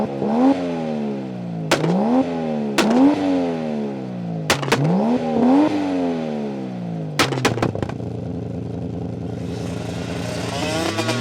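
Toyota Supra straight-six turbo with 550 hp revving repeatedly, each rise ending in sharp pops or bangs, then settling into a steady loud drone near the end; close and loud with no talk.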